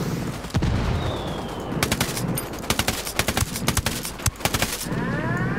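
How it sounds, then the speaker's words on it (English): Automatic gunfire in Ghost Recon Wildlands, bursts of rapid close shots stuttering in uneven clusters over a constant battlefield rumble, with a brief whistling streak early on. "I'm just firing blindly."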